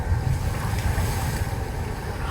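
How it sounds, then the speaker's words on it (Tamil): Big sea waves surge against the rocks at Kappil Beach, Varkala, in a loud, continuous roar of churning surf mixed with wind buffeting the microphone. No one speaks. "இவ்வளோ பெரிய அலை வந்துட்டு இருக்கு பாருங்க."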